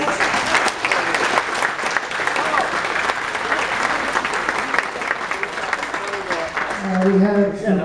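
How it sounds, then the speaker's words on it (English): An audience at an outdoor event tent claps steadily after a presentation, a dense sustained round of applause that carries on under a voice speaking toward the end. "Let's give them a round of applause."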